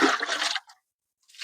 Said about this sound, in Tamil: சப்போட்டா செடிக்கும் பார்த்தீங்கன்னா, லிக்விட் தண்ணி குடுக்குறேங்க.